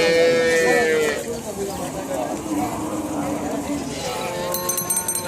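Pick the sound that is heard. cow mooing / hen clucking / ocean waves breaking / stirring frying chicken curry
cow mooing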